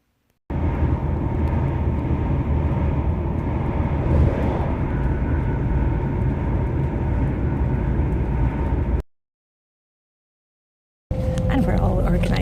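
Interior of a passenger train on a day trip to Malmö, Sweden: a steady, loud low rumble for about nine seconds, a sudden drop to silence, then the rumble resumes.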